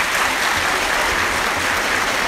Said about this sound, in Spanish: El público te regala este aplauso, Jeremy.